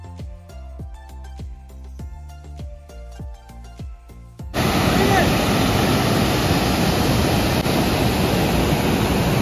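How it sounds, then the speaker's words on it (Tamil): A small waterfall near a resort in Munnar, Kerala cuts in loudly as a steady, close rush of falling water, following a few seconds of a plucked musical passage. "ஒரு சின்ன ஒரு வாட்டர் ஃபால்ஸ் வந்திருக்கிற"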